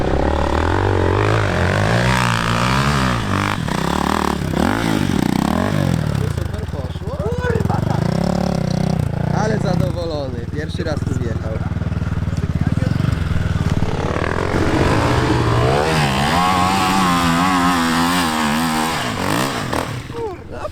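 A KTM 525 motorcycle rides off-road, its engine rising and falling in repeated revving sweeps, loud and close, with people talking over it throughout.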